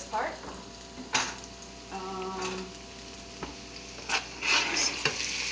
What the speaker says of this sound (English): The oil is ready, so we're gonna cook the onion and put the potato in as well.